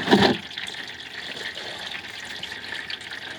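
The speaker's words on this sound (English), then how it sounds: "The fluid draining down from the pan." Transmission fluid drains from the pan of a Mercedes ML, a soft continuous trickle and splash of liquid with a brief louder gush at the start, fairly quiet and close.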